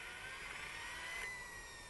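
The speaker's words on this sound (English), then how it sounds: "there's the electric motor engaging the engine to keep the air running through it, just to cool it down" RC helicopter turbine engine spun by its electric starter motor during a post-shutdown cooling cycle, giving a steady, faint whine with a high tonal line and airy rush, no talking.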